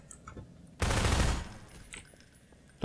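A turret being destroyed in a Portal 2 test chamber gives a sudden dense burst of rapid crackling that lasts about half a second and then trails into quiet rustling, with a sharp click at the end.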